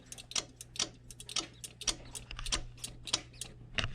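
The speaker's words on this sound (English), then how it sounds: "you hear these check valves clicking just fine" Pressure check valves on a home furnace click in quick irregular succession, small sharp ticks close to the microphone over a low steady hum.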